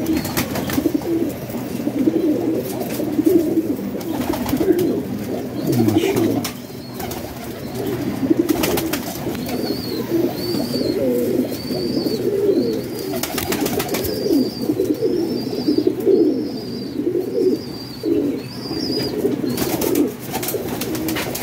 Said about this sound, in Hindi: बड़े प्यार वाले कबूतर हैं जी